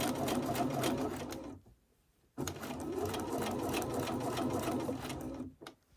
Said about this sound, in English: now I'm going to sew not quite to the end. I'm going to leave a little bit open.